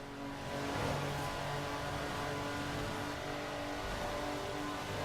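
Jaguar E-Type engine in Forza Horizon 4, a steady, moderately loud sports-car drone that holds and swells slightly, heard alone with no talk.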